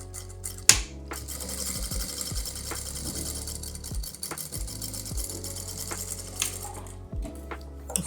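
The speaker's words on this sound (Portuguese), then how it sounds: "agora eu vou bater outra costura aqui" A sewing machine runs in repeated short bursts as it lays a topstitch seam along the folded edge of the fabric, its low motor whir stopping and starting close by with no talk.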